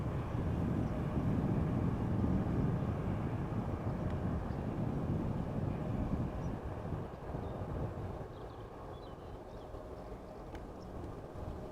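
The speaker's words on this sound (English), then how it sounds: "The tune of the GE90s cannot be beaten by any other engines as far as I'm concerned." An airliner with GE90 engines departs a runway at Amsterdam Schiphol Airport, a broad, steady jet roar heard from beside the runway that slowly fades over the final seconds.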